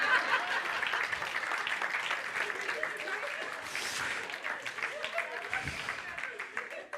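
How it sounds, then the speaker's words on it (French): A church congregation applauds in a steady wash of clapping that lasts the whole stretch, with a few chuckles and murmured voices mixed in, heard from within the room. "Un peu d'applaudissements."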